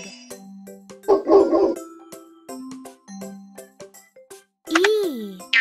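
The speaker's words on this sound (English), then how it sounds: "Dog." A cartoon dog barks in the Kiddopia children's spelling game, a few short yaps among chimes and cheerful game effects, with a narrating voice speaking around them.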